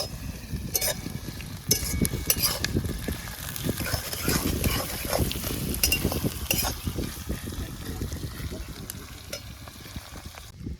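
Onions sizzle and crackle steadily in hot oil for village-style chicken biryani cooked outdoors by a river in a sal forest, the frying loud and close with occasional stirring scrapes throughout.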